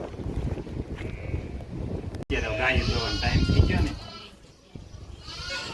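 Sheep bleat in an open village pasture, a few wavering calls rising over steady wind buffeting the microphone, while someone talks nearby.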